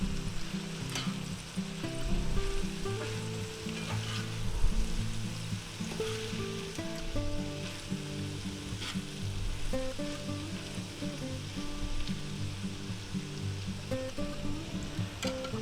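Vegan burrito filling sizzles and crackles in a hot pan, a steady frying hiss under irregular scraping and stirring, close and fairly loud, with no talking.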